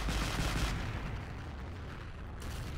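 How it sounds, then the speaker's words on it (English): A naval gun firing in Men of War Assault Squad, a deep, rumbling boom with a long rolling decay, loud and dense with no voices, the blast fading into a lingering low roar. "Look at that naval gun. I love that."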